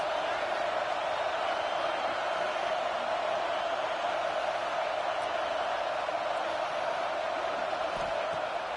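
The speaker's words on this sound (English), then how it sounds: "This crowd trying to make life miserable for this offense." Football stadium crowd roaring as a steady, dense wall of noise, unbroken and fairly loud throughout with no distinct voices standing out.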